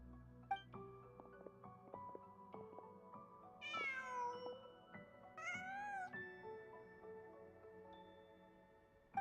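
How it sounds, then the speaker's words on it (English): A cat meows in a video game, two clear, rising-and-falling cries standing out over a steady bed of soft game music and ambient tones, with no speech. "Huh. Just a cat."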